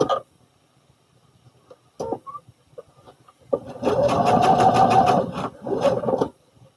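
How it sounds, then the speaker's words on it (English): A sewing machine stitches a garment seam, starting with a few short taps and then running in a loud close whirring burst, briefly pausing and resuming for locking stitches. "I'm locking my stitches in place"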